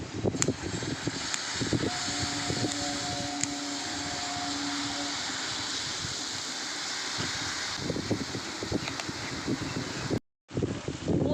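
Strong wind blows outdoors around an open-air jalebi frying setup, a steady broadband roar buffeting the microphone throughout, with a brief dropout near the end.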